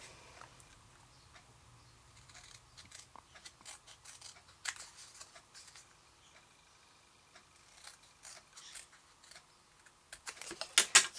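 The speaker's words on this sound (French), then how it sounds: "on trace un triangle que l'on vient couper. J'ai mon petit ciseau, il est là." Small scissors cut a paper triangle for a handmade card, producing quiet crisp snips and rustling paper in scattered bursts, closer and louder toward the end.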